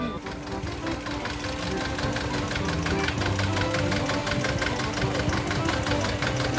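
A tractor drives slowly onto a boat in the Marais Poitevin marshes at Arçais; its engine knocks in a fast, even rhythm that holds close and steady throughout, with faint voices in the background.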